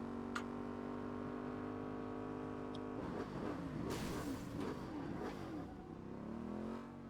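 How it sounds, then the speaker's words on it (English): A motorcycle engine in the Saints Row video game drones steadily, then revs up with a rough, fluttering burst while drifting before settling back, heard alone and fairly close. "just you can hear the engine noise."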